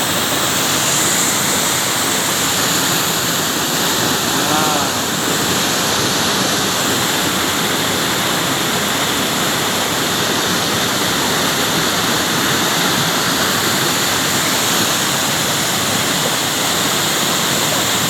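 Waterfall at Lubuk Hijau Ceracai in South Aceh, about five meters high, a loud, continuous roaring rush of falling water that fills the whole stretch without letup or voices.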